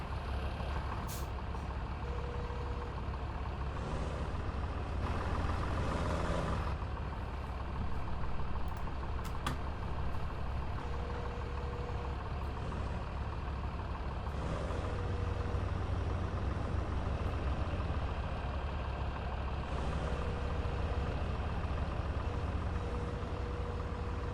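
An old 1255 tractor in Farming Simulator 17 runs steadily, a loud continuous low engine drone that holds without pause through the whole stretch, with a few faint tonal beeps now and then.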